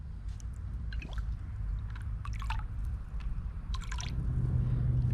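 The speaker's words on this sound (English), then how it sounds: "the first thing we're going to do is fill up this tube to A with pool water." Pool water trickles and drips into a small test tube, with soft splashy gurgles and scattered drip sounds over a steady low background, no voices.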